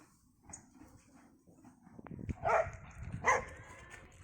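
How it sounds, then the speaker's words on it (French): A frantic dog barks a few sharp times near a horse stable, the yaps rising in two loud bursts toward the end over faint background rustle. "Un chien, chien, chien, chien tout fou."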